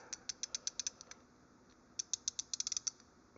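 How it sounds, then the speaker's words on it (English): Double box ratcheting wrench with a flex head clicking, two quick bursts of crisp, evenly spaced metallic ticks close up in a quiet room. "There's the mechanism, the sound of the ratcheting."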